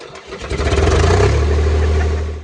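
A tractor engine cranks and catches, then settles into a loud, rumbling idle close by, with a rhythmic chugging pulse throughout and no talking.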